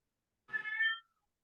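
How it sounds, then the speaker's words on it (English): One drawn-out meow from a house cat, clear but faint and distant, heard alone against silence in a home during an online board meeting. "We need to see this cat one day"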